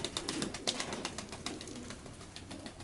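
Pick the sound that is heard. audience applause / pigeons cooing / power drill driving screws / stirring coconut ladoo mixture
pigeons cooing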